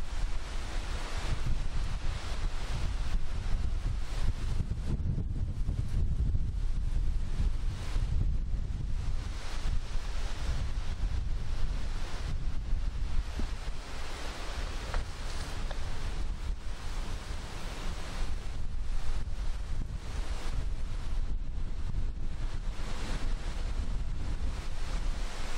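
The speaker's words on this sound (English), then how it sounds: "I'm going to turn into the wind now" Wind buffets the microphone outdoors during a walk along an old railway line, a constant loud rumbling roar that fills the whole stretch with slight gusty surges and no talking.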